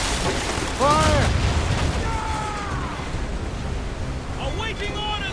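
Ship cannons fire in the naval combat of Assassin's Creed Rogue, with deep booms rolling under constant wind and surf noise, shouted voices and creaking sounds layered on top, loud and close.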